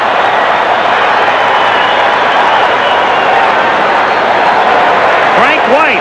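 A baseball crowd at the 1986 All-Star Game in the Astrodome roars steadily after a home run by Frank White, a dense, loud, sustained wash of cheering and applause that holds at full level, with a commentator speaking over it.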